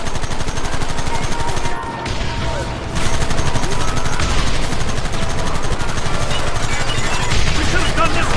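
Gunfire in Red Dead Redemption, a dense, continuous barrage of loud overlapping shots that barely lets up, with voices shouting in the mix.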